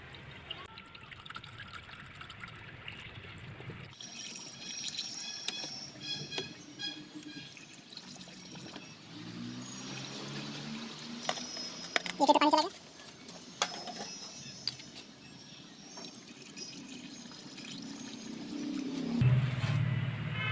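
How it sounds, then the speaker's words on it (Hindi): Water poured into a car radiator while it is being flushed, heard as an intermittent trickle and splash, close by, with room noise around it and a louder gurgling burst near the middle. "अब हम इसमें पानी डालेंगे।"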